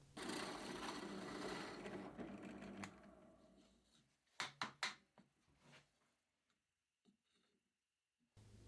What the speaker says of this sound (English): let's drill these two locations with a 6mm drill and a 12mm drill